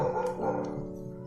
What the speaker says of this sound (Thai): อ่าน้องหมาเห่านะคะ